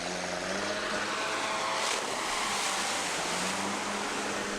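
A Sherp amphibious ATV drives through a gravel pit in third gear, making a continuous broadband roar with a low engine hum underneath, steady and fairly loud throughout with no voices.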